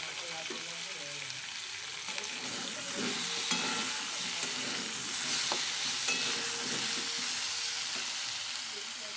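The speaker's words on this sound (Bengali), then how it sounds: "তো দেখো এদিকে হচ্ছে মাংসটা আমি বসিয়ে দিয়েছি এখন।" Meat sizzles in a hot pan for a Bengali kosha mangsho curry, a steady close frying hiss with occasional stirring scrapes and small pops throughout.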